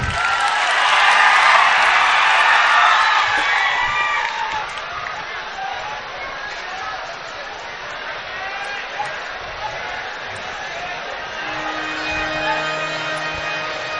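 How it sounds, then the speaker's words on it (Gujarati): A Gujarati comedy show audience applauds Jigneshbhai with a dense, loud wash of clapping that swells at first and then gradually thins and fades. A voice speaks faintly near the end. "બતાવો તાળીના ગણગાથી જિગ્નેશભાઈને"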